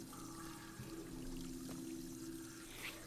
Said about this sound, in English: I turned the water on.